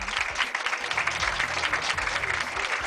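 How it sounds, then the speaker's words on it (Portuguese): A loud, dense burst of crowd applause used as a sound effect, a continuous close wash of clapping with a low rumble underneath running through the whole span. "Quando eles acertam, palmas para eles."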